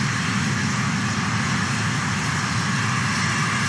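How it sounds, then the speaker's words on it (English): An Atlas rocket roars during the NROL-101 launch ascent for the National Reconnaissance Office, a steady, loud, broadband rumble with no variation and no voices. "Liftoff to the Atlas NROL-101 mission for the National Reconnaissance Office."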